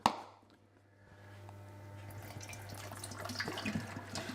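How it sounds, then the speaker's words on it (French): Water runs into a cooking pot for making bee candy. A soft tap-like gush builds gradually and stays steady, close and fairly quiet, with no voices. "on va commencer par mettre l'eau"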